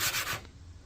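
A brief, close scratchy rubbing of sandpaper as a curved panel is block sanded by hand, two or three quick strokes before trailing off.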